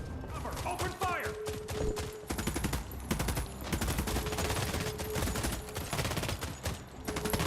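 Sustained gunfire in The Expanse video game: dense rapid bursts of shots and machine-gun fire fill the whole stretch, loud and continuous, with combat voices and other game sounds mixed underneath.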